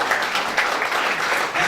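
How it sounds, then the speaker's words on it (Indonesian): A church congregation applauds together during a service, a steady wash of clapping hands that runs evenly and fairly close throughout the short moment, with no voices rising above it. "Aja tepuk tangan dulu."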